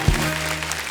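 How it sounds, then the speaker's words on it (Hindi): A studio audience at a comedy talk show breaks into applause, a short burst of broadband clapping that fills the whole second, with a low thump at the start and a faint held tone underneath. "उनके लिए जोरदार तालियां हो जाए।"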